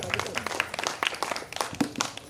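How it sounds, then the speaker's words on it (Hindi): At a school function, an audience claps for a teacher with scattered, uneven hand claps at moderate volume, sounding sparse rather than a full roar. "कुंदन मैडम के लिए जोरदार तालियां"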